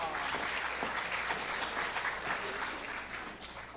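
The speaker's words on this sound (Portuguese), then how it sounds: "Un aplauso." Audience applause at a Papiamento comedy show, a steady wash of clapping that holds evenly and then begins to thin and fade toward the end.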